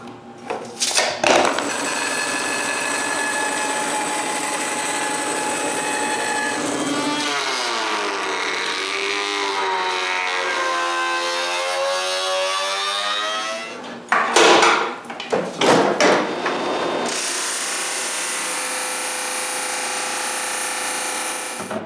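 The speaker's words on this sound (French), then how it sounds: "Je peux retourner dans l'atelier et surfacer des bouts d'érable." Pieces of maple being surfaced in a woodworking shop, a loud sustained machine whine with grinding and rattling, broken by a short pause and clatter before the steady roar resumes.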